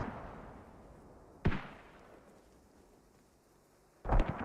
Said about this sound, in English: We have the mortars being used from the Alt Knights